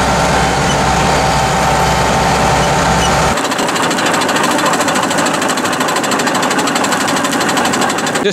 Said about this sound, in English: Just stopped again while I'm mowing